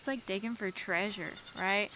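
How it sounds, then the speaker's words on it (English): Young bottle-fed baby goats bleat loudly and close by in a rapid series of wavering cries, with someone talking briefly between them. "I'm sorry for the baby goats yelling in the background."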